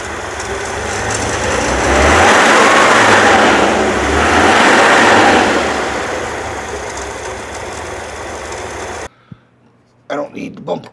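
A 1966 Chevy Corvair engine fitted with an HEI distributor idles low and steady, a close, loud rumble with a slow throbbing pulse that cuts off near the end, followed by a few brief clunks.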